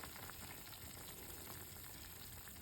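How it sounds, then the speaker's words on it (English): Beans bubbling at a boil in a pot on the stove, a faint, steady simmering hiss with soft bursts of bubbling throughout, no voices. "The beans are boiling."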